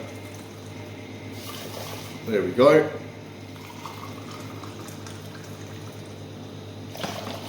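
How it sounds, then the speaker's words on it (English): Pre-boiled water from a kettle is poured onto a cup of rice in a pot in a short gurgling splash, followed by a brief spoken remark over a quiet kitchen hum. "to that I will add 2 cups of pre-boiled water"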